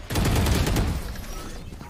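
Gunfire in the tactical shooter Valorant: a short, loud burst of rapid shots, close and dense, decaying within about a second.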